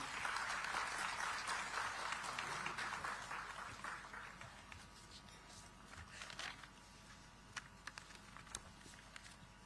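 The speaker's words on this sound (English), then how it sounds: "Let's welcome him with a warm round of applause, ladies and gentlemen." Warm applause from a crowd at a digital technology summit in Visakhapatnam, loud and dense at first, then thinning into scattered claps before fading out.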